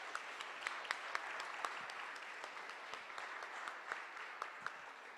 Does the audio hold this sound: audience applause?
yes